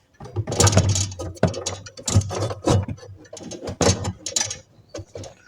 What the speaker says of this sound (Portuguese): Então aqui agora eu vou terminar de dar aperto no parafuso.